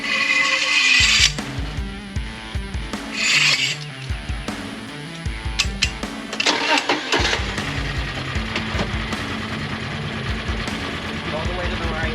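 Mule utility vehicle stuck in soft ground near a tree, its engine starting and then running with uneven surges as gas is applied, alongside clanks and scattered mechanical knocks.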